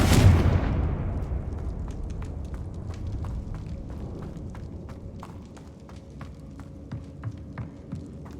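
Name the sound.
spell explosions from Incendio and Confringo in video game Hogwarts Legacy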